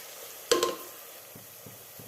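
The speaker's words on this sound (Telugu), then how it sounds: "అల్లం వెల్లుల్లి పేస్ట్ పచ్చి వాసన పోయేంత వరకు నూనెలో బాగా" Ginger garlic paste fries in hot oil for a chicken dum biryani, with a brief scrape of stirring and then a soft, steady sizzle close by and faint clinks toward the end.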